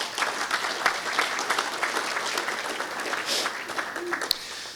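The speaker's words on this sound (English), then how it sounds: "That also deserves a round of applause" A round of applause from a civic audience at a municipal infrastructure funding talk, moderately loud dense clapping that stays steady for a few seconds, with faint crowd murmur.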